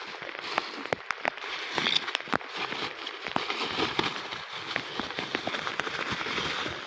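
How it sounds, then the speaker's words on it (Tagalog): Rain falling outdoors in a shower, caught while sheltering under a tree, with steady dense patter and sharp, irregular drops popping up close, fairly quiet overall. "Ulan!"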